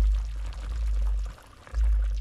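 A small splash of water poured into a pan of mackerel paksiw cooking with pork in olive oil, a brief loud pour with a short gap before it resumes.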